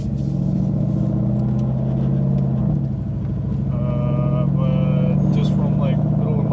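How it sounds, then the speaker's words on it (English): Engine of a Ford Mustang with 4.10 gears driving steadily, a low rumbling hum from inside the cabin, with a voice talking over it. "I'm just driving it very, very normal right now"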